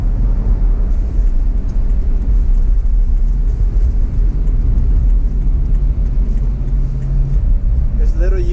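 A BMW E9X M3 on a test drive after fitting a Hotchkis front sway bar, giving a steady low engine and road rumble from inside the cabin, constant and smooth throughout.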